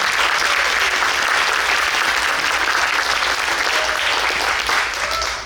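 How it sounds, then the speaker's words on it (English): Loud, dense audience applause at an arangetram dance debut, given for the accompanying musicians. Many hands clap steadily and evenly for several seconds, with faint crowd murmur underneath. "A big round of applause for this amazing team."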